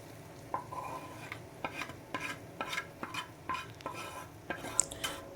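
Sautéed masala being stirred into beef for kappa biryani, with a spoon scraping repeatedly against the pot in an uneven rhythm over a soft, steady sizzle, close and moderately quiet.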